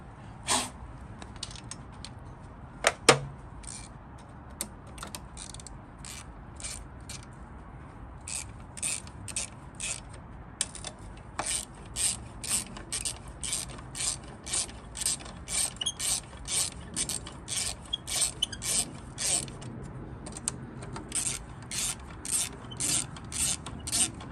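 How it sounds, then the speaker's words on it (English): A ratchet clicks in quick repeated bursts as 6mm Allen key bolts are refitted on a Triumph Daytona 675 during a crash rebuild, close up, with pauses between runs of rapid clicking and a few sharper knocks early on. "So with that back on, we can put the 6mm Allen key bolts back in."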